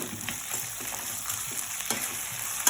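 Tamarind being stirred into a mint and coriander leaf mixture frying in a pan for pickle, a continuous sizzle with soft, regular scraping strokes of a spoon, close by and without speech.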